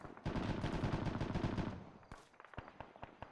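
Rapid video game gunfire in a tense team shootout, loud sustained automatic bursts for about two seconds, then scattered sharp single shots and softer impacts.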